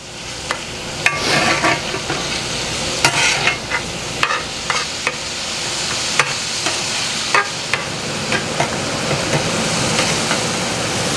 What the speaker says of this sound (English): I'm going to cook this over pretty high heat until the ground beef gets brown